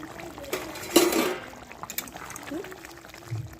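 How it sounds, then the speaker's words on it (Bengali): A spoon stirs chicken and potato curry in a covered pot, giving a brief wet scraping swirl followed by soft bubbling and liquid sloshing, close by. "20 মিনিট হয়ে গেছে, এবার আমি একটু নেড়ে দেব।"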